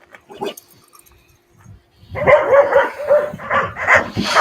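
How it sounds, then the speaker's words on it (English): K9 training dog barking near a target during a search exercise, a few soft early yips then a run of loud, close, repeated barks and whining over the last half. "You notice he doesn't bark until he gets close to the target."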